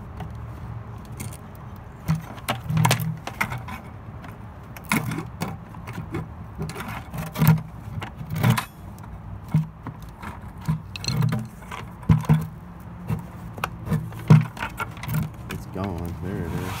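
A screwdriver clicks and scrapes against stuck-together plastic buckets in irregular bursts of knocks and creaks, close by, with a person talking in between.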